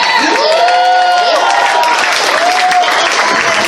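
A convention crowd at a furry dance competition cheers, whoops and applauds loudly and steadily throughout, with shouts rising above the noise.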